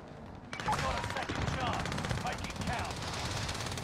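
Rapid video-game gunfire in Call of Duty crackles in dense automatic bursts almost throughout, loud and close, with shouting voices mixed in among the shots.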